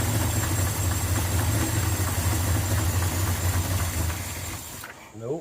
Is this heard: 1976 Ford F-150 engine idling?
yes